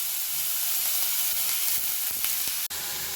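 Onion frying in a pan on a home stove gives a steady, even sizzle that runs unbroken throughout, close by and moderately loud, with no talking.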